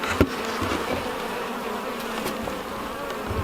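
Honey bees buzz steadily close by near homemade jar feeders, a continuous droning hum with small knocks and clicks scattered through it.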